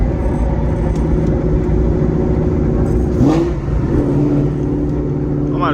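A Gen 2 FBO Mustang Coyote 5.0 with an extremely loud exhaust, heard from inside as a loud steady engine drone that climbs in pitch as the engine revs and accelerates.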